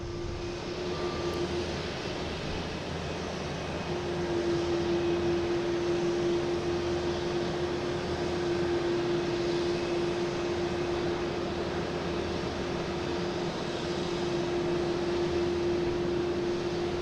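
A Cape Air plane arriving from Nantucket at Boston Logan airport, heard as a steady propeller engine drone with a sustained whine that holds throughout, moderately distant against broad airport wind noise.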